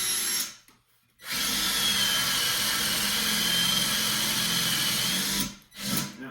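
A power drill spins a paddle bit into wood, giving a loud steady whine for about four seconds, with a brief burst before it and a short burst after, and the motor spinning down in between.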